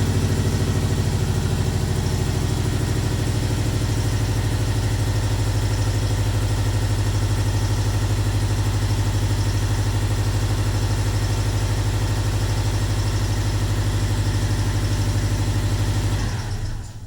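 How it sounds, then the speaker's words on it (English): A car engine idling roughly and visibly shaking, a loud, steady, close-up drone with a throbbing low pulse and uneven texture that holds for the whole stretch before cutting off at the end. "Definitely see how much the engine is just shaking back and forth."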